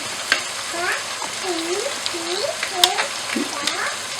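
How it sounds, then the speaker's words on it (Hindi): Chicken with cabbage, carrot and capsicum fries in a pan, giving a low sizzle. A utensil stirs it with repeated scraping strokes that make faint squeaky sweeps, close by. "और शिमला मिर्च डाल देंगे और इनको भी चिकन के साथ फ्राई कर लेंगे।"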